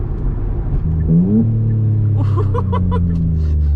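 A twin-turbo Kia Stinger engine revs hard with exhaust cutouts open, a deep rumbling roar rising in pitch, followed by several sharp, crackling bursts from the exhaust.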